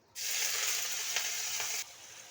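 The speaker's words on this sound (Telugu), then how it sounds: "ఫస్ట్ మనం ఆయిల్ హీట్ చేసుకొని ఆయిల్లో ఎండు రొయ్యలు వేసి వేయించుకోవాలి" Dried shrimp hitting hot oil, a sudden loud, bright hiss that holds steady for about a second and a half with a couple of small pops, then cuts down to a faint background fizz.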